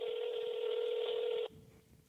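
A telephone being dialed for a call gives one steady, loud touch-tone beep lasting about a second and a half before cutting off abruptly into faint room noise.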